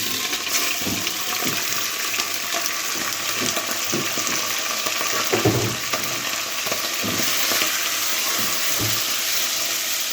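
Beef kidneys sizzle steadily in a pan of golden fried onions, a continuous loud hiss with scattered crackles and occasional scraping stirs, no voices.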